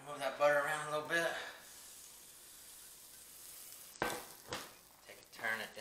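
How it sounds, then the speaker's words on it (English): Kerrygold butter sizzles and crackles in a hot cast iron skillet. The frying hiss is steady and quiet beneath a person talking at the start and end. "Put a little bit of our Kerrygold butter in there. Here it's sizzling."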